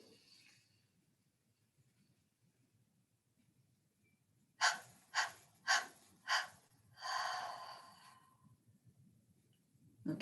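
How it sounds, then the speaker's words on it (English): A person takes deep breaths in during a guided breathing exercise: four sharp, audible inhalations in quick succession, then a longer drawn-out breath, close and alone after a quiet stretch. "So breathe it in deeply."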